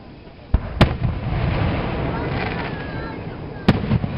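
Fireworks at a Tri-City, Kentucky show go off in two sharp, loud bursts near the start and one more toward the end, with crackling and a steady crowd murmur between them.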